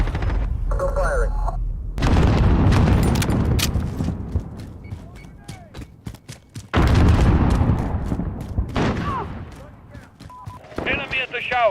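Loud bursts of gunfire and booming blasts in a video game, with rapid shots and heavy impacts coming in waves, and someone talking over and between them.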